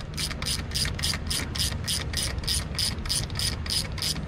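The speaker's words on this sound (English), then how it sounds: "There's my ratchet." A ratchet wrench clicks in a steady run of about a dozen quick, evenly spaced strokes at close range while valve springs are changed on an engine cylinder; no talking.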